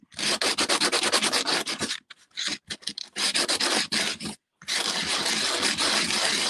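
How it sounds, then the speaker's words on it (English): Hand sanding the rough edge of an opaque glass bead in a circular motion, a dry, rapid rubbing rasp in close bursts with brief pauses between strokes. "This guy needs to be sanded."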